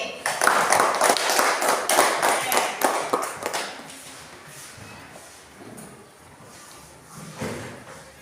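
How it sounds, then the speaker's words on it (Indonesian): Children in a classroom clap their hands again, a loud rapid burst of many claps that thins out and fades after a few seconds, followed by quieter room noise and a few stray sounds. "Tangan sekali lagi."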